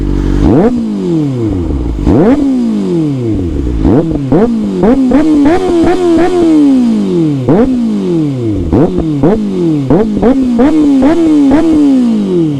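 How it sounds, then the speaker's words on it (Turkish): A Kawasaki Ninja ZX-636 motorcycle engine revs hard again and again, rising and falling in sharp bursts with a throaty, crackling exhaust, loud and close. "Bir de ZX6'nın böyle bir egzozu var."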